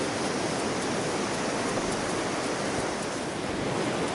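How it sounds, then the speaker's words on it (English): Ocean breakers on the North Oregon Coast, with three-to-four-foot swells offshore, make a dense, continuous roar of surf that stays steady and loud without a break. "the breakers rolling in."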